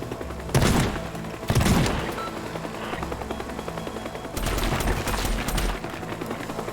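Heavy helicopter gunfire in the Teardown destruction game, two loud bursts early on followed by a quieter stretch with a low rotor rumble, then a longer sustained volley of rapid shots.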